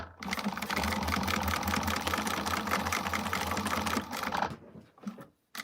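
A sewing machine re-stitches fabric in a loud, close run of rapid stitching for about four seconds, then stops abruptly, leaving a few faint clicks and near silence.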